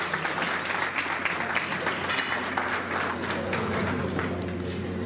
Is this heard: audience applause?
yes